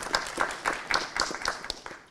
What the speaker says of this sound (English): give a round of applause for Musa, who is going to be presenting